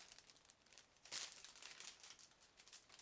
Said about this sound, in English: It's a reopenable plastic bag, so it can be used later if you would like to. And now we are going to open it.